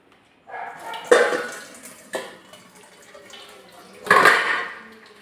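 Cooked matta rice is drained in a pressure cooker, giving intermittent splashing and pouring water with clinks of metal cookware, two louder bursts standing out near the microphone.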